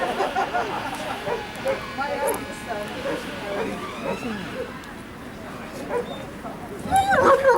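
A police dog barks and yips during an attack-dog demonstration at an outdoor fun day, repeated sharp barks and whimpers heard over crowd noise and someone talking, fairly close.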